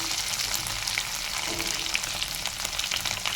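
Ginger sautéing in a hot pan makes a continuous, dense sizzle with light crackles throughout, loud and close, with no voices.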